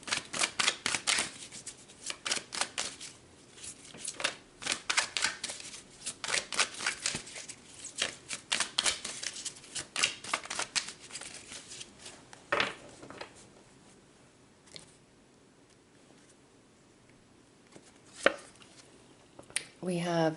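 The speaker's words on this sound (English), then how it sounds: "So let's pull a few more cards here." Tarot cards being shuffled by hand in a rapid rhythmic run of crisp riffling flutters, pausing and resuming with softer handling and occasional sharp slaps of cards, close and alone without speech.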